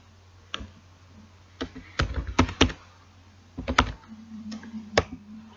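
Typing on a computer keyboard, scattered bursts of quick close key clicks with short pauses between them, sounding alone in a quiet room.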